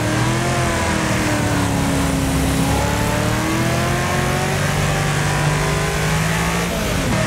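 Race car engine from the demolition-derby racing game Wreckfest, revving loudly and continuously with rising and falling pitch as a battered car accelerates through a crowded pack.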